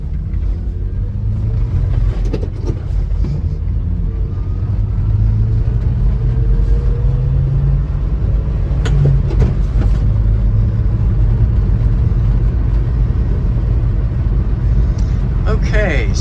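A Subaru Sambar van's small engine warms up from cold, its loud, steady rumble filling the cabin. The note rises and falls slightly as the van pulls away, with a few knocks and rattles.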